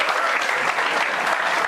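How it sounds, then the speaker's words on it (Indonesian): Studio audience applause for comedian Panca Atis at a televised stand-up comedy battle, a loud, dense burst of clapping lasting under two seconds with no voices over it. "sekarang tepuk tangan untuk Panca Atis"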